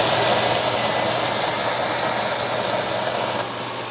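A blender grinds roasted peanuts into creamy peanut butter, a loud, steady, close motor roar that holds constant and eases slightly at the very end, with no voices.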